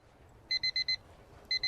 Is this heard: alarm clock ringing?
yes